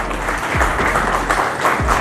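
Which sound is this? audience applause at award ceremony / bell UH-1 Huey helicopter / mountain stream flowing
audience applause at award ceremony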